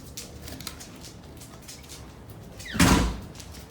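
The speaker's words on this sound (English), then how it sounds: "then I open the door and here she comes" A house door opens to let a dog outside, a single loud knock-and-swing sound near the end after quiet room ambience.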